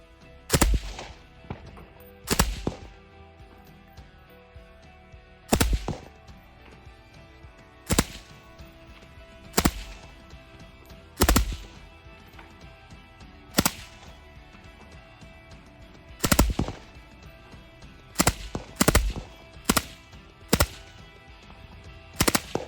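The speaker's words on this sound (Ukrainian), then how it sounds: "Це ми стріляємо з глушника" Sharp muffled gunshots from a suppressed FN Minimi machine gun crack out singly and in short clusters at uneven intervals, with quiet steady background noise between them.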